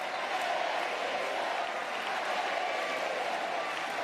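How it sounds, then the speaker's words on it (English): Crowd at a men's wheelchair tennis doubles semi-final between Great Britain and France, cheering and applauding for the home pair; steady, dense roar of many voices held at an even level throughout, with no single voice standing out. "Crowd rooting on their guys, Houdet and Cattaneo."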